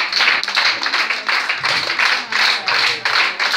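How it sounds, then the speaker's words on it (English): A church congregation claps hands together during worship, a dense, steady rhythmic patter of many hands with regular pulses roughly three times a second, loud and continuous throughout. "Oh, clap your hands"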